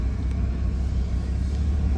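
Steady low rumble of cars on a busy roadside, loud and continuous with no distinct passes, close to the listener and likely mixed with wind.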